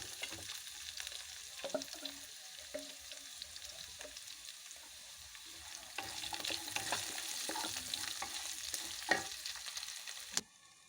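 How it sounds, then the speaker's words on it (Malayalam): Onion is stirred into a pan of potato and spinach curry, giving a continuous low sizzle with repeated spatula scrapes and taps that grow busier toward the end before stopping abruptly, no talking. "ഇടത്തരം ഒരു സവോള ഉള്ളി കൂടി ചേർത്ത് അതിനെ ഒന്നുകൂടി ഒന്ന് ഇളക്കുക."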